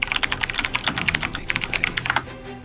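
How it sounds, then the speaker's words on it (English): Rapid keystrokes clatter on a computer keyboard, a quick irregular run of sharp close clicks that stops abruptly near the end, with no talking over it. "Those are some nice typing sounds right there, bud."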